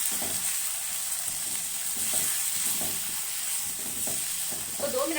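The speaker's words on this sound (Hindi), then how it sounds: "इसको ऑयल में अच्छे से हम इसको सौते कर लेंगे" Chicken pieces sautéing in hot oil, a dense, even crackling sizzle heard up close and alone, with faint stirring taps and a brief spatter near the end.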